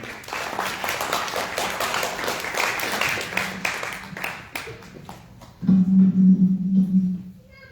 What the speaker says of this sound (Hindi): हम यीशु के जलाल के लिए जोरदार ताली बजाएं